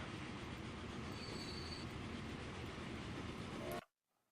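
A train in the Transport Fever video game rolls steadily with dense rumbling rail noise and a faint wheel squeal, loud and continuous before cutting off abruptly near the end.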